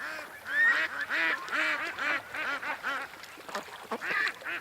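Ducks at a lake quack repeatedly in a noisy, overlapping flock, with goose-like honks mixed in, fairly close and continuous.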